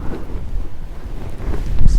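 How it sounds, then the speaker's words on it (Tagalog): Strong wind buffets the microphone in heavy, uneven gusts, rumbling loudly and swelling toward the end. "Lakas ng hangin. Sulit, malamig yung hangin."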